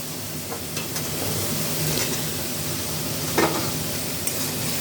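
Potatoes fry in spice paste in a pan for a mushroom curry, giving a continuous sizzling hiss with a few stirring scrapes and soft knocks, close and steady.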